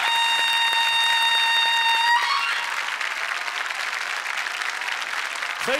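Loud, dense studio audience applause fills the whole stretch, with a sustained musical tone ringing over the opening two seconds before the clapping carries on alone.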